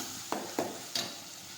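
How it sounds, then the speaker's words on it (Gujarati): Ginger paste sautéing in a pan, a soft low sizzle broken by three quick stirring clacks, close and fairly quiet, no voices. "હવે થોડી વાર સાતળી દઈશું."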